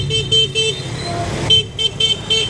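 Motorbike horns toot in short repeated bursts amid busy Hanoi street traffic, loud and close, with several honks overlapping over a rumbling motor background.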